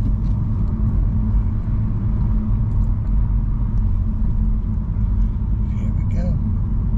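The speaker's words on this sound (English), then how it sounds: "that's a great big truck pulling a big trailer" A big truck pulling a large trailer rumbling past on a road near Zion National Park, a loud, steady low drone filling the whole stretch with faint noises on top.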